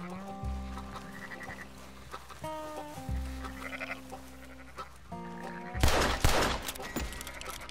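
Sheep in the Red Dead video game bleat several times in drawn-out, wavering cries, some overlapping, over a quiet game backdrop, with a loud burst of gunfire near the end.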